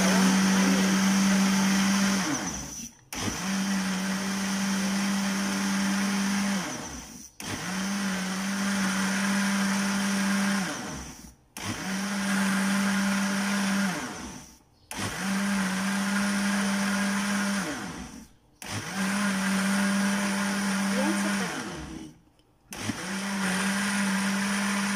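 A kitchen blender whirs through vegetable and fruit juice in about seven loud, steady pulses of several seconds each, its motor stopping briefly between runs.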